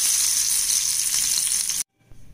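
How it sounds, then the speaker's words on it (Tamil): Mustard seeds and curry leaves sizzle in coconut oil as a final tempering for Kerala avial, a loud, close, continuous crackling hiss that cuts off abruptly near the end. "கடுகு கருவேப்பிலை மட்டும் நம்ம தாளிச்சுக்க போகிறோம்."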